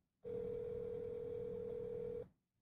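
A steady telephone dial tone in the Roblox video game holds at an even level for about two seconds, then cuts off abruptly.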